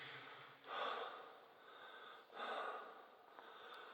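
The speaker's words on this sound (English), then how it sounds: "I apologise for the heavy breathing." A person breathes heavily while walking uphill in Bocairent, with two loud, drawn-out breaths close to the microphone and softer breathing between them.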